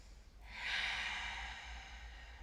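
A single slow, long exhalation during a yoga class, starting softly and swelling into a breathy, airy sigh that trails off gradually, close and alone in a quiet room.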